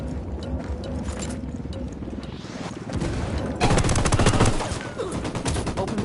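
Gunfire in a Ghost Recon Wildlands firefight, a steady rattle of shots that swells into a louder, denser burst near the end, fairly distant with mechanical and ambient noise underneath.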